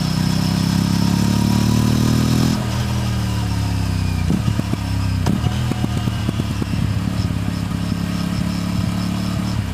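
An Aprilia SR 457 scooter engine idles close by, a steady droning hum for a couple of seconds before dropping to a lower, uneven rumble with sharp ticking pops.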